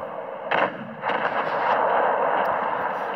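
Tank cannon fire in the World of Tanks video game: a sharp shot bursts out, followed by a second blast and sustained rumbling roar, fairly loud and without voices.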